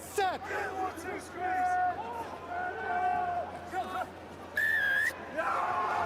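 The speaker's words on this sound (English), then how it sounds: "This time Exeter are on the right end of Mathieu Reynald's whistle." During a Champions Cup rugby match between Sale Sharks and Exeter Chiefs, a rugby referee's whistle sounds one sharp, clear blast over a roaring stadium crowd, with commentators talking throughout.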